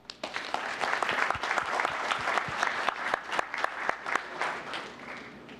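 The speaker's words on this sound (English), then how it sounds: "that is a cause worthy of applause" A small crowd at a town council meeting applauds steadily, clapping close and lively for several seconds before thinning out toward the end.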